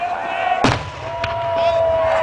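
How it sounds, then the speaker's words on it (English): Fireworks show at a college E-Days celebration: a sharp, loud burst near the start followed by a second, lighter pop, over a steady crowd murmur and a faint sustained tone. "are definitely pieces of fireworks falling down towards the sky"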